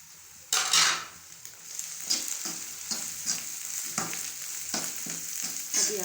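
Whole spices, including cinnamon, black and green cardamom, black pepper, fennel and cumin, fry in hot oil for a karela and egg dish, giving a close, steady sizzle with repeated spoon scrapes and a few sharp clinks.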